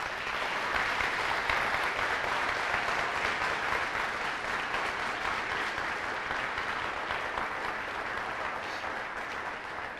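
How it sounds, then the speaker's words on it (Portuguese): Steady, sustained applause from a church congregation fills the whole stretch evenly, a dense wash of many hands clapping at moderate distance with no pauses. "tem uma alegria imensa em poder dar você uma forte e calorosa salva de palmas."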